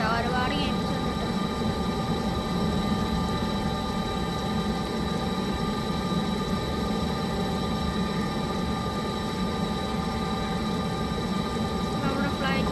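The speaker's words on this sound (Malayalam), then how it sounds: "നമ്മുടെ ഫ്ലൈറ്റ് മൂവ് ആയി തുടങ്ങി" In a Roblox cabin crew game, an airliner engine drones in a steady, continuous hum with a constant tonal whine, unchanging throughout, while a voice talks over it.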